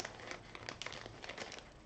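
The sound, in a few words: crinkling reusable plastic bag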